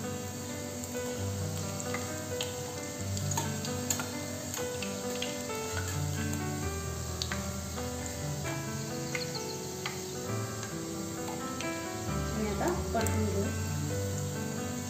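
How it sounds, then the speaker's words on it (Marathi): Hot oil poured onto Malvani vade flour crackles with a steady sizzle, running beneath prominent melodic background music. "त्यावर गरम तेल घालून घ्यायचं आहे"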